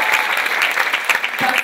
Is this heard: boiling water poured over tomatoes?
no